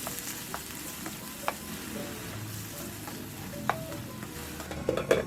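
Chicken liver with soy sauce simmers in a covered pan, a low steady bubbling sizzle with occasional soft clinks and taps of the lid or utensil, quiet and alone.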